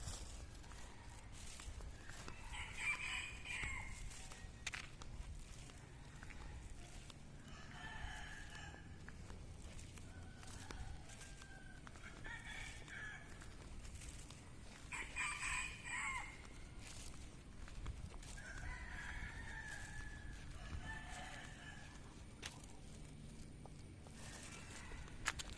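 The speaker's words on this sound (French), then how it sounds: "ici ce qu'il y a beaucoup, c'est des coqs, des poules," Several roosters crow one after another at a distance, repeating every few seconds over a steady outdoor background hum, with hens clucking, in Thailand.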